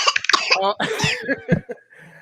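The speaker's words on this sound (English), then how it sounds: "hey, don't be coughing, boy" A single short cough bursts out amid a flurry of voice sounds, close and fairly loud, followed by a quiet tail.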